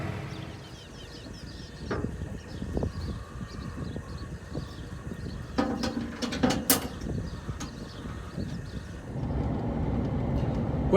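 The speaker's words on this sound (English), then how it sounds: "I've got the tedder" A hay tedder runs on a farm, with a steady mechanical clatter, rattling and squeaking parts, and a few sharper metallic clanks over a continuous rumble.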